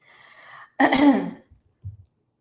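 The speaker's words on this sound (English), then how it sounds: "I may be clearing my throat" A person clears their throat once, loud and close, after a faint hum, followed by a short low grunt.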